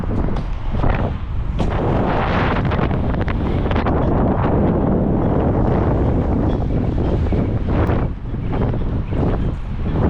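Strong wind buffets the microphone outside a white 2021 BMW X5 xDrive40i on a super cold day, a constant loud roaring rumble with gusty thumps and no speech.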